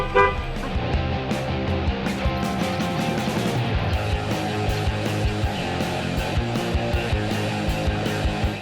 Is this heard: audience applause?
no